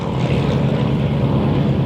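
A de Havilland Canada propeller trainer airplane flies over an airshow at Geneseo, giving a steady, loud, droning engine roar that holds level throughout with no voices.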